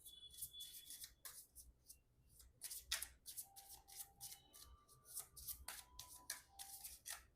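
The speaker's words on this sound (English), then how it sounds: "now let's shuffle some extra cards" Oracle cards shuffled by hand, a quick run of crisp riffling and sliding card strokes in uneven bursts, close but quiet, with no talking.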